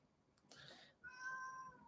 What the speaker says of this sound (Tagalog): Yung naririnig niyo yung meow meow niya,